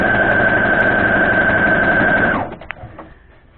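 A sewing machine runs steadily at speed, stitching the border of a large Dresden Plate quilt block, with a high motor whine that stops abruptly near the end, followed by a few faint clicks.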